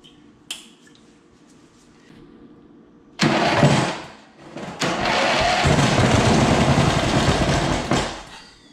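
A revived go-kart engine with good spark catches after a brief pull, sputters, then settles into a steady, close, mid-pitched running drone for several seconds before cutting off.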